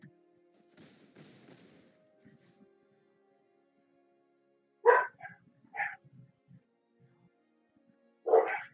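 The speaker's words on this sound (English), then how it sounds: "apologize for the barking." Dogs bark indoors in a few sharp, loud bursts, with faint murmuring and quiet background noise between the barks.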